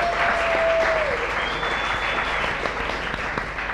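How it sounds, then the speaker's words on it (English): Audience at a cooking competition event applauding the host, a steady wash of many hands clapping at once, dense and continuous for a few seconds with a faint tone and murmur beneath. "let's not be remiss in giving Topher a round of applause"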